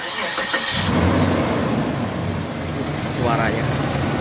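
A 2004 Suzuki Grand Escudo XL7 with a 2500 cc V6 cranks briefly, fires up and settles into a steady mid-pitched idle. Speech is heard over it.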